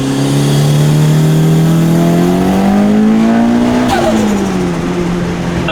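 A Mitsubishi Lancer Evolution engine revs loud and close, its pitch climbing steadily before dropping sharply near the end, with a sustained harmonic drone throughout.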